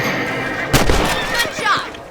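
A single gunshot rings out in the Red Dead Redemption western video game during a rabbit hunt, a sharp loud crack followed by brief rumbling tail, with game dialogue voices around it.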